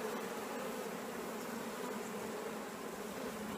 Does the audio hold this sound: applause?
no